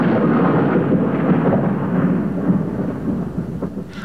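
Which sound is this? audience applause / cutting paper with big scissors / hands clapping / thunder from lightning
thunder from lightning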